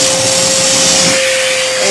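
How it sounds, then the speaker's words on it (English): Vacuum cleaner with a brush-fitted hose running steadily, a loud continuous whine and airy hiss up close with a fixed tonal hum, no break across the whole stretch. "And yes, it is on."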